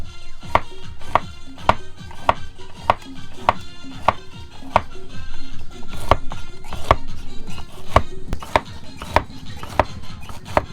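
A knife chops guava on a board at a street stall for a spiced guava mix, sharp steady knocks repeating close and loud in a quick, even rhythm with a faint hum of activity behind.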